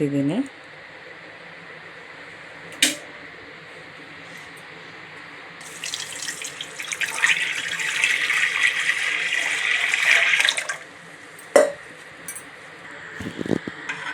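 Hot water poured from a vessel onto two spoons of barley powder in a home kitchen, a steady splashing pour of about four seconds mid-clip, framed by quieter room tone and a few sharp knocks.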